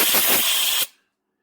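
Compressed air blasts into threaded holes on a Briggs engine, a loud, close hiss lasting under a second before cutting off abruptly into silence.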